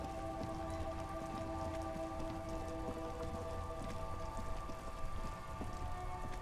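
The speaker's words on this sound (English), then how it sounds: "It's raining again. It was clear just an hour ago." Rain falls steadily on surfaces, a dense continuous patter of drops with scattered sharper taps, no voices.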